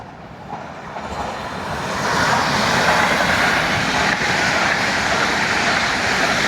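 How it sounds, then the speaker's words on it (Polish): A PESA Dart passenger train passes through Warszawa Włochy station. A broad rushing roar swells over the first two seconds, then holds steady and loud to the end, with no voices. "No i mam, widzowie, kolejnego darta."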